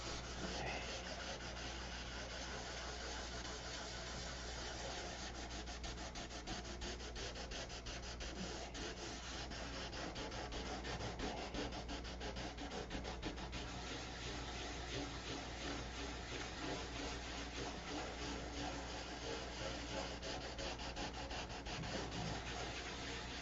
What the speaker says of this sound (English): This is just a leveling sanding.